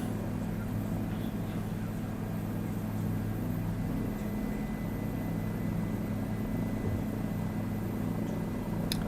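A Bell helicopter in a flight simulator game, flown with a Velocity One flight stick, gives a steady, droning rotor and engine hum that stays even and constant throughout, with no talking over it.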